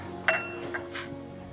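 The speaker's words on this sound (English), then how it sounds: "Now we're going to take our wine glass" A wine glass is set down on a dining table laid for an elegant winter dinner, giving a bright, close clink followed by a couple of fainter ticks in a quiet room.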